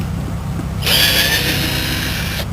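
A power drill backs screws out of the side window frame of a 1976 Boler trailer, giving one loud, close, high whine lasting about a second and a half before it stops.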